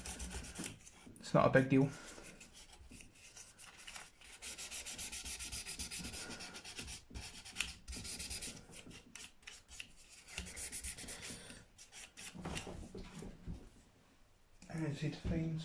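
Sandpaper rubs back and forth on the nut of a Gibson Les Paul guitar during a setup, producing a continuous close scratchy abrasion with short pauses while someone talks over it.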